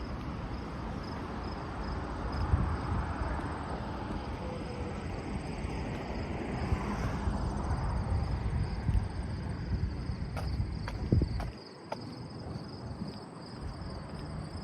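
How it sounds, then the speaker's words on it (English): Crickets chirp in a steady, faint high-pitched drone on a Toronto evening during the long Labour Day weekend, running the whole time beneath a low rumble of city or rail traffic. "crickets."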